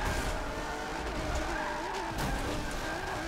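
A car drifting in Forza 7, driven with a Logitech G920 wheel and no handbrake: a continuous tire squeal and skid over a steady engine drone, loud and sustained throughout.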